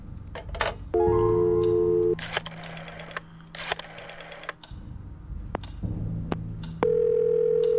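An in-game telephone in the horror adventure game Scratches: sharp clicks and taps of handling the phone, broken by steady, fairly loud electronic ring tones, one lasting about a second and another starting near the end, with no talk.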